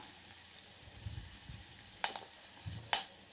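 Asafoetida, turmeric and curry leaves tempered in hot oil for Kolhapuri misal, a quiet sizzle with soft low thumps and two sharp metallic spoon taps near the end.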